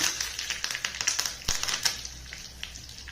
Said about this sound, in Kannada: ಈಗ ಎಣ್ಣೆ ಬಿಸಿ ಆದಮೇಲೆ ಸಾಸಿವೆ ಹಾಕ್ತೀನಿ ಕರ್ಬೇವು ಹಾಕ್ತೀನಿ